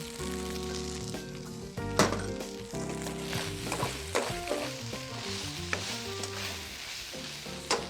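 Shallots for chicken fried rice fry in oil in a pan, a steady close sizzle with occasional stirring clatters, under soft background music.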